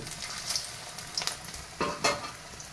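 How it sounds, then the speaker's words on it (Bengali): Shrimp chops are slipped into hot oil one after another, each drop bringing a louder burst of bubbling sizzle over a continuous frying hiss. "চিংড়ি মাছের চপটা একের পর এক তেলে দেওয়া হচ্ছে"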